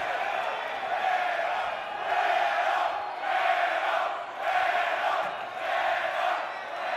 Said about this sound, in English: And the crowd shouting for El Güero, the blonde one.